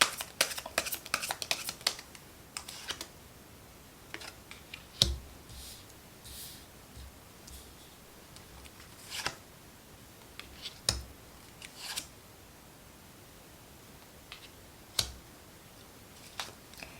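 Tarot cards are shuffled and drawn in quiet, scattered taps and flicks, with sharp isolated snaps between soft rustling and no talking.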